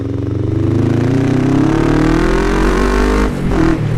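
A Kawasaki ER5 motorcycle engine hums steadily while riding in second gear at low speed, its pitch rising gently as it pulls, with a brief dip near the end; loud, close and without speech.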